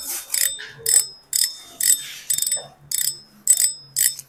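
Versus Gladiator fishing reel giving off a series of sharp ratchet clicks in about nine quick bursts, close and crisp with nothing else over it.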